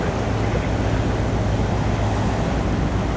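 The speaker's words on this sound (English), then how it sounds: "You can clearly hear the engine from considerable distance." A container ship's engine rumbles from a distance as the vessel moves at speed, a steady, dense low roar blended with broadband wash that stays even throughout with no distinct events.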